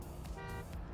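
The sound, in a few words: car horn honking in a Wii racing video game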